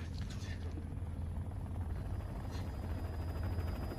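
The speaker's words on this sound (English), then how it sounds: "哇，真的有 helicopter 嘞！" A helicopter's steady rotor drone fills the whole stretch at moderate level, a continuous low throbbing hum in a zombie action movie scene, with faint voices underneath.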